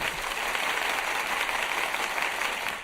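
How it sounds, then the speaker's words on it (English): A canned applause effect from a soundboard plays as a dense, even burst of crowd clapping lasting a few seconds, moderately loud with no voices over it. "Like one of them says applause. I'm gonna play this."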